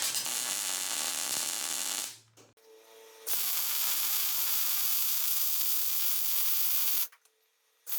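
Arc welding of small gussets onto the base of a barbed wire fence unroller, with loud crackling sizzle in two long stretches split by short pauses.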